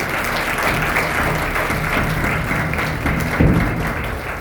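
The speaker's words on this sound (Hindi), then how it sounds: "तालियों जोर से" Congregation applauding in a church during a Sunday prayer service, a steady, dense wash of clapping that holds at one level for the whole stretch, with a few louder claps standing out near the end.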